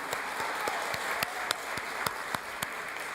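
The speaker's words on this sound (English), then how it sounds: "Can we get one more round of applause for Brooklyn Pride and Kyle Knapp?" Audience applause at a Brooklyn Pride interfaith service: steady crowd clapping throughout, with a few sharper, louder claps nearby standing out at a regular beat.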